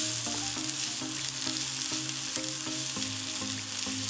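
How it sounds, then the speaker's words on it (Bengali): Chopped onions fry in hot oil over full heat, giving a constant dense sizzle with soft rhythmic scraping as they are stirred without pause, close and steady with no talking. "অনবরত নাড়াচাড়া করে পেঁয়াজগুলোকে একটু লালচে করে নিচ্ছি"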